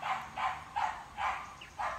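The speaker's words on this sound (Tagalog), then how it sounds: "ang ingay ng aso" A dog barks in a steady series of five loud, fairly close barks, each separated by short pauses, with no talking over them, outside in a hillside subdivision lined with houses.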